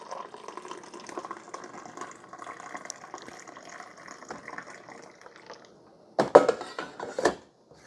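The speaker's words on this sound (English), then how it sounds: "let's see how the carafe pours" Coffee pours from a Hamilton Beach FlexBrew carafe, a soft, steady trickling stream that stops briefly, then gives way to a few louder, close splashing bursts.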